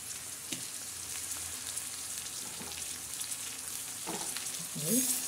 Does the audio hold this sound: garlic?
yes